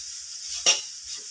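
Japanese spinach thoran cooks in a pan with a soft background sizzle, and a single short scrape of a spatula stirring it stands out near the middle, close and brief.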